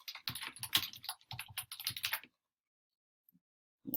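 Rapid typing on a computer keyboard while entering a quiz answer: a close run of quick key clicks for about two seconds, then silence and a few final taps.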